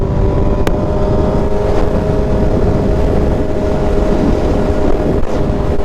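A 2023 BMW S1000RR superbike with a Stage 2 tune on E85 fuel drones loudly in first gear, its engine holding a fairly steady pitch. Heavy wind buffeting rushes over the engine throughout.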